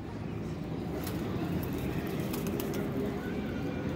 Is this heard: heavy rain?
no